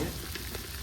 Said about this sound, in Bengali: এই আলু ভাজা হয়ে গেছে।